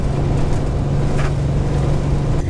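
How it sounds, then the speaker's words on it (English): A 1963 Chevrolet Corvair engine idles a little high inside the car on a rally road, a steady close low hum with a constant drone throughout and no talk. "the car is idling a little high"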